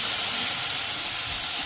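Coriander and cumin frying in hot oil for stuffed naan filling, a loud continuous sizzle and hiss close up with no talking.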